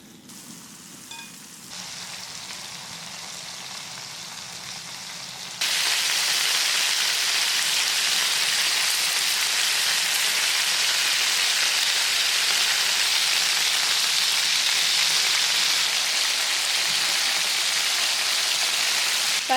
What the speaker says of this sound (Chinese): 腌好的鸡腿蘸一下上锅煎